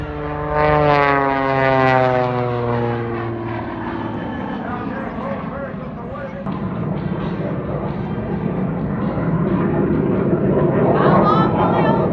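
A propeller airplane roars past low over the field at the EAA Oshkosh airshow in Wisconsin, a loud, sustained engine drone whose pitch sweeps downward as it passes, with crowd voices mixed in beneath.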